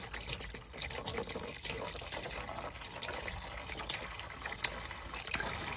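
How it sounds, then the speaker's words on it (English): Transmission fluid draining from a 2023 Volvo XC90 into a pan, a quiet continuous trickle and splatter of liquid with faint background noise. "So it's still draining just a little bit."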